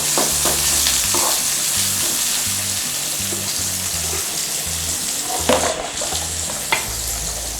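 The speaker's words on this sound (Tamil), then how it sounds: "வெங்காயம் நல்லா ப்ரௌன் கலராக வர வரைக்கும் வதக்கி எடுத்துக்கணும்." Chopped onions and mustard seeds sizzle steadily in a pan for a green gram curry, with repeated scraping strokes of a spoon stirring through and a couple of sharper clinks near the end.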